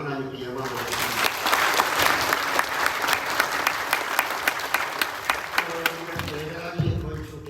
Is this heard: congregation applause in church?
yes